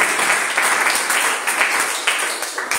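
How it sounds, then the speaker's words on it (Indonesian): A church congregation claps during a sermon, producing a loud, busy patter of many hands that swells and dips slightly over a few seconds. "beri tepuk tangan bagi Roh Kudus"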